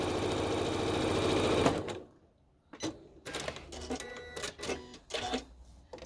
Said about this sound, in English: putting it in the machine, and sewing away.